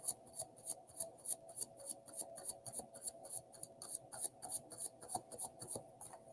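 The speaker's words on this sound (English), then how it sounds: "That was a good shuffle." Rapid, rhythmic papery riffling repeats in quick bursts as tarot cards are shuffled close by, quiet and crisp with no talking.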